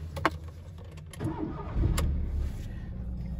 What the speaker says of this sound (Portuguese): Eu vou dar uma ligadinha no carro.